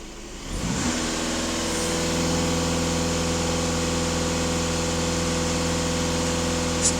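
A Volkswagen Golf 2.0 TDI diesel engine held steady at about 2500 rpm after a brief rise, a constant loud mechanical drone with strong harmonic hum and no speech, during DPF regeneration testing.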